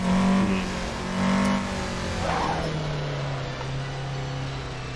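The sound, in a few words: car driving in the Assetto Corsa video game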